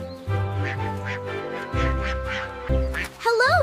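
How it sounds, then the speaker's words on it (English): Several cartoon ducks quack repeatedly and close by in a steady, uneven rhythm, followed at the end by a short warbling bird-like call. "3 little ducks"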